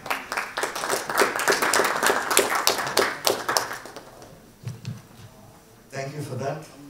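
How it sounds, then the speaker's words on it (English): An audience at a nutrition and health conference claps loudly for several seconds with distinct sharp slaps. The clapping fades out around the midpoint, and then a voice speaks briefly. "Loud applause."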